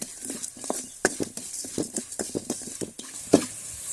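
Sesame, coriander and cumin seeds frying in a pan, with a soft steady sizzle under irregular scraping and stirring taps of a spoon against the metal.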